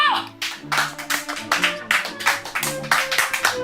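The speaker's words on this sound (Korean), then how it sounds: "박수!" A studio audience on the Korean talk show Chajwibbul claps in brisk, rhythmic bursts, with musical tones and murmuring voices underneath.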